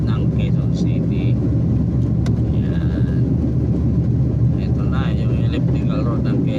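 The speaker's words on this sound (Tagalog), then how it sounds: "Talagang marami pa rin mga sasakyan" Busy road traffic on Electrical Road, Quezon City, rumbles continuously at close range with passing engines, while someone speaks over the steady noise.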